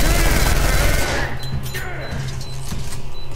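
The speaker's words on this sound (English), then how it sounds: "See how fast these bullets roll out?" Rapid automatic gunfire rattles loudly in the shooter game F.E.A.R. 3, a dense continuous burst for the first second before easing into lighter clatter and mechanical whirs.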